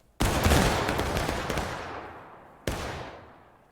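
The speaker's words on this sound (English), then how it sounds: "Take aim. Fire." Rifle volley fire in a video game: a loud massed crack with a long rolling echo, then a second smaller volley a couple of seconds later, nearby and with no talking.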